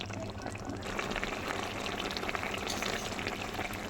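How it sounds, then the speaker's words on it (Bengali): Katla fish curry in a pan comes up to a boil, giving a dense, steady bubbling sizzle at close range with no talk over it. "আর মাছটা দেখো রান্নাটা একটু ফুটে উঠছে"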